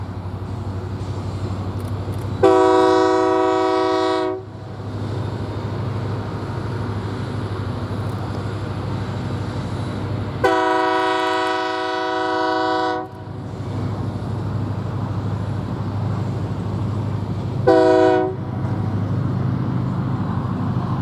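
Utah Railway MK50-3 locomotives with EMD 645 engines pass with a steady low engine rumble, broken by three loud horn blasts, two long and one short, over about twenty seconds.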